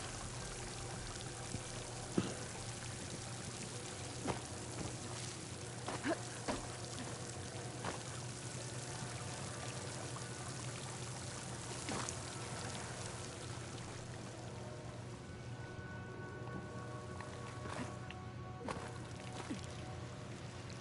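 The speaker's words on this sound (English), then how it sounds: "Water's coming from that vent." Water pours steadily from a vent inside a ruin in Horizon Forbidden West, a faint continuous stream with occasional splashes and drips over a low ambient hum, heard without talking.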